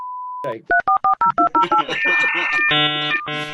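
A person vocally mimics the AOL dial-up modem sign-on: a steady tone, a rapid string of dialing beeps, then harsh screeching handshake noise, loud and close.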